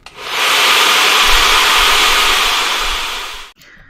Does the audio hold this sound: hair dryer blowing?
yes